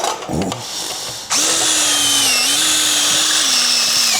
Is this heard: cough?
no